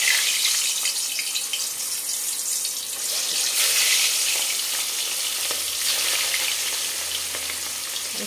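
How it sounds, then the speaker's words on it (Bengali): Pieces of katla fish fry in hot oil in a kadai, giving a loud, steady hiss and crackle that swells briefly midway and carries on continuously without talk. "আমি একটা একটা করে মাছ ভেজে নেব।"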